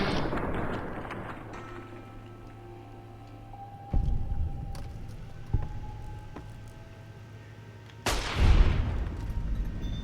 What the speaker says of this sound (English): Go ahead and shoot him.